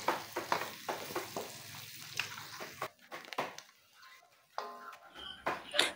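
Pork kare-kare being stirred after peanut butter goes in, with a series of close, uneven scraping and clattering stir strokes over a low simmer, pausing briefly near the middle before picking up again.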